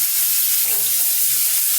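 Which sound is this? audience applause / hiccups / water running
water running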